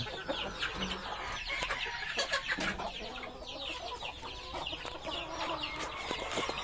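Breeder hens in a poultry pen cluck repeatedly in overlapping bursts, with several birds calling at once against constant close farmyard chatter.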